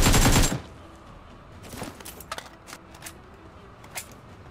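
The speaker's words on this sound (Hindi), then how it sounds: "भाई साहब क्या शॉटगन चला रहा भाई सौविक यार, बढ़िया बढ़िया शॉटगन चला रहे भाई अपने।" Shotgun fire in an online shooter video game, with one loud, dense blast at the start followed by scattered lighter clicks and snaps, close and without speech.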